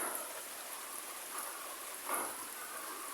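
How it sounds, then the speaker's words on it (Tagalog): Heavy rain pours steadily over a planted farm field, a dense close hiss of drops with slight surges in intensity. "Yan naman pong malakas na ulan."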